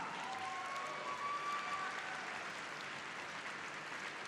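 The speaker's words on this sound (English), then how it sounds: "So muted applause" Muted, distant applause from the arena crowd at the ISU European Championships men's short program in Kaunas, a steady soft patter of clapping throughout with no voices over it.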